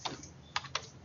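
A few quiet, crisp keystrokes on a computer keyboard, three light taps spaced irregularly against a faint room hum.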